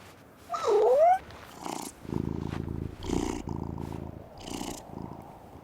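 A cat in the video game Life Is Strange: Double Exposure gives a short meow, then purrs in several close, steady bursts.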